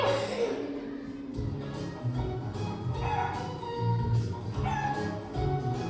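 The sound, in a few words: chicken crowing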